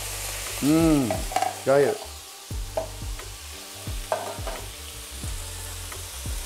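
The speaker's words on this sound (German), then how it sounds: "So, mein Fleisch ist hier vorne noch am Braten." Marinated meat for nasi goreng sizzles and fries on a teppanyaki plate while a spatula scrapes and stirs with sharp, repeated strokes, and a voice briefly murmurs approval.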